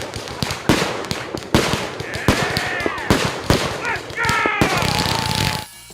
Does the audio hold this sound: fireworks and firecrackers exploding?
yes